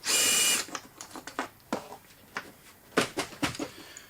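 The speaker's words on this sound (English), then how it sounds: "You can use a hand screw if you wish, but obviously much faster with an electric drill." An electric drill backing long screws out of a wooden amplifier crate for a McIntosh MA7200 integrated amplifier: a loud initial burst, then a series of short, sharp whirring and ratcheting bursts close by.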